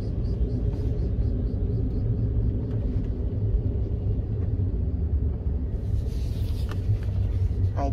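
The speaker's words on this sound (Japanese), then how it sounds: "この距離をいつも車で来ています。" Heavy low rumble of a car driving, steady and continuous from inside the cabin, with faint higher noises near the end.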